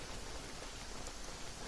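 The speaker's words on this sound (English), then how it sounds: "It's raining again. This will hinder our vision." Steady rain falls in the video game Genshin Impact, a dense, even hiss of downpour that stays constant and fairly quiet with no voices over it.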